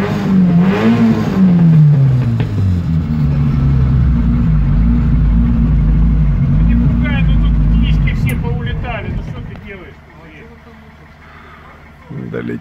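A home-assembled engine in a ZAZ car revs loudly and steadily up close, pitch rising and falling, then drops to a low idle near the end with voices talking over it.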